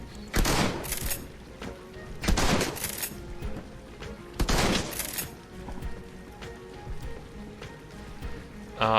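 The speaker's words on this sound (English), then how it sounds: "the bot is gonna shotgun" A combat drone fires a shotgun in the Shadowrun Hong Kong video game: four loud, broad blasts spaced about two seconds apart, each trailing off into a rumbling, crackly game ambience.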